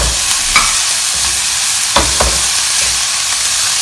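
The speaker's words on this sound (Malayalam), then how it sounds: "ഇനി ഇതിലേക്ക് ചൗചൗ ഇട്ട് കൊടുക്കാം." Chayote is stir-fried in a hot pan, making a loud, steady sizzle broken by a few sharp scrapes and thuds of the spatula against the pan.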